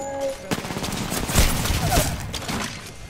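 Gunfire in a shooter video game rattles in a dense, loud volley of rapid shots with heavy booming impacts, lasting throughout.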